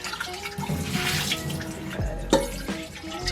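Tap water runs into a kitchen sink as food for spring rolls is rinsed, a steady close splashing stream with a few louder gushes and clatters as the food is moved under the flow.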